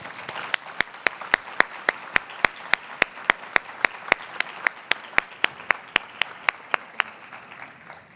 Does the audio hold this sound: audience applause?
yes